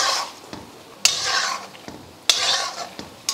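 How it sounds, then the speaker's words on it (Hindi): Aloo vada frying in moderately hot oil, a bright sizzling hiss that swells after each of several sharp spoon or ladle strikes against the pan, close and without speech. "इसे क्रिस्पी होने तक हमें तलना है"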